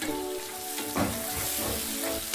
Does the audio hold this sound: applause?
no